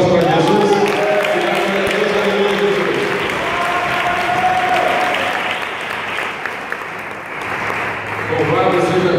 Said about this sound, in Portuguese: Quem recebeu, bate palmas para Jesus.